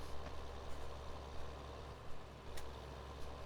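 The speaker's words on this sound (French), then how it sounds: "moi je ramène le tracteur du coup" A farm tractor engine in a farming simulation game on a Normandy map hums at a low, steady idle, faint and continuous with a droning low-pitched throb and occasional soft clicks, with no one talking.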